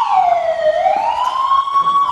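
An alarm siren sounds at a fire-rescue station, a loud, close electronic wail that glides down and then slowly rises again in one continuous tone.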